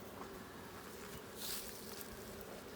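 Honeybees in an open hive buzz in a dense, steady drone with a few close passes swelling briefly louder, a faint, continuous hum throughout.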